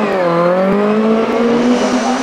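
A Mini hillclimb car races flat out up the Shelsley Walsh course, its engine screaming at high, steady revs that rise gradually, loud and close throughout.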